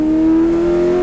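A vintage race car engine holds a steady, loud drone on a racing circuit, a continuous sustained note without pauses.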